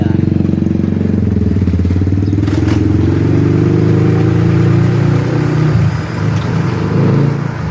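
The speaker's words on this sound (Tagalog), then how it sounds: "Dito yung motor natin" A motorcycle engine runs steadily and close by at a medical mission, its loud low drone holding throughout with some clatter and scraping near the end, while people talk nearby.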